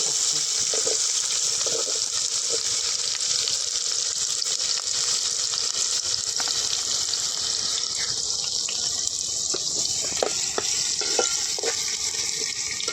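Chopped onion frying in oil in a village kitchen for a suran (elephant foot yam) curry spiced with Malvani masala, a steady close hiss and sizzle with occasional stirring clicks, no talking.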